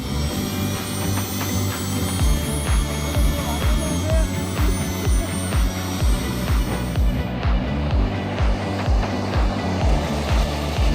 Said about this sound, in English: These guys made this idea a reality by installing a jet engine on a bicycle.